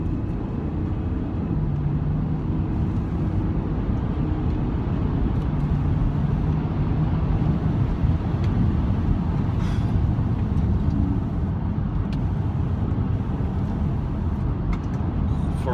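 Mercedes car accelerating, heard from inside as a sustained low engine and road drone that builds over about sixteen seconds, steady and fairly loud with no talking.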